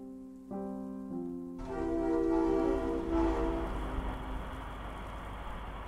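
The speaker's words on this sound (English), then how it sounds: "Train should be here soon." A train arriving in the game Charnel House Trilogy, opening with a low sustained horn that shifts in pitch, then a swelling rumble of rolling carriages growing louder and staying near.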